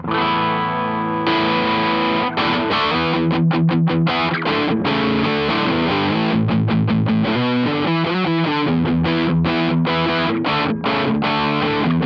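Electric guitar played through a REVV D20 amplifier on its clean channel into a real speaker, a loud continuous run of strummed chords and picked notes with short rhythmic breaks, no talking.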